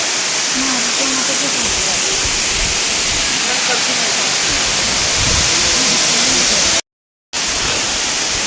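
Pradhanpat waterfall roars as a loud, steady wash of broadband noise close by, unbroken except for a brief dropout near the end, with no clear talk over it.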